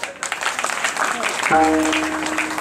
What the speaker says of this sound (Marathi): आता मागच्याने टाळी वाजवा, मग तुम्ही एकदा टाळी वाजवा त्यांच्यासाठी